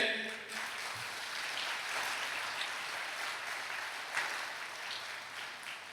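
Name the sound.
audience clapping hands at a church talk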